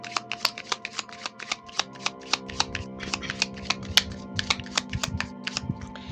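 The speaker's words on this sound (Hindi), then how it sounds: "Let me shuffle the card more and let me check." A deck of tarot cards is shuffled nearby in a steady series of crisp, sharp flicks and riffles, with faint background hum and no speech.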